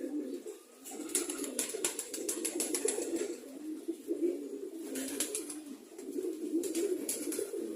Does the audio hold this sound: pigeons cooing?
yes